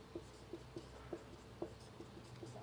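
Pen writing numbers by hand, a faint series of light, regular scratchy strokes and taps, quiet and close with no speech.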